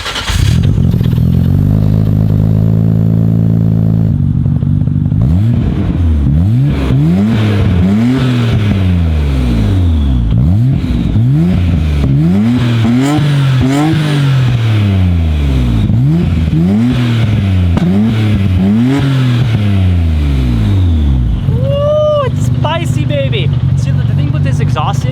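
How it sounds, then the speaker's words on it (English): Nissan GT-R with an RB engine, fitted with an HKS boost controller and high-spec engine, idles, then revs hard repeatedly, each rev climbing and falling, loud and close, before settling back to a steady idle. "when you get up into the higher RPMs, it really opens up. And again, kind of like the R33, it has that classic RB sound."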